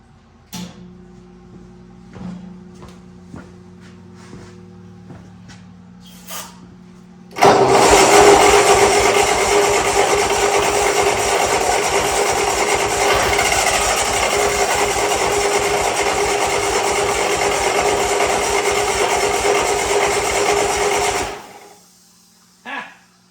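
An old Bobcat skid steer headed for scrap clicks and cranks briefly, then its engine catches and runs loud and steady with a rapid chugging rhythm for about fourteen seconds before cutting off.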